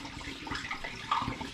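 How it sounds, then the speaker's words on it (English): Wine poured into a demijohn during home brewing of an elderflower and rhubarb sparkling wine, a steady close trickle and splash of liquid running throughout, with no one talking. "Now I go back to my original demi and pour the rest of it in."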